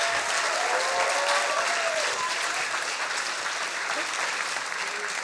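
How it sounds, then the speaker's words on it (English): A crowd at a Science Slam event applauds a speaker coming on stage, a dense, steady patter of many hands clapping at moderate level, tapering slightly near the end, with faint voices mixed underneath. "Please, big applause for Roberta."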